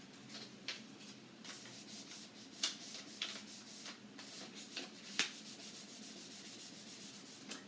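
Paper flaps being glued onto a cup to build a homemade drum, with soft, steady rubbing and pressing close by, broken by a few faint taps and crinkles, with no voices.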